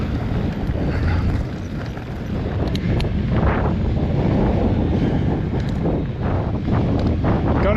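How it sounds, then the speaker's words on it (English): Strong wind on a hillside mountain bike trail roars and buffets the microphone continuously, a heavy low rumble with gusting surges throughout. "God, it's a bit bloody windy."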